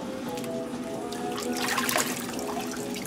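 Water splashing and trickling as a large largemouth bass is let go back into the lake, a steady close wash of liquid sound lasting a few seconds with a brief louder surge midway.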